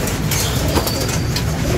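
A bird coos softly over a steady low rumble of background noise, with no voices.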